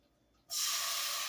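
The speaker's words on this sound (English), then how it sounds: "You guys hear that sizzling?" Garlic hits a hot pan and erupts into a sudden loud, bright sizzle that holds steady for about a second after a quiet start.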